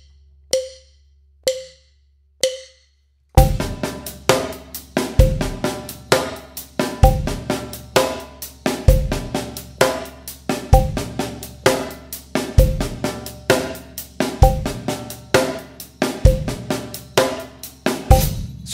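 Inverted paradiddle groove on a six-piece drum kit: three sharp clicks count in, then a driving kit pattern kicks in with punchy low drum hits and steady bright cymbal strokes in a tight repeating rhythm, loud and close, no talking.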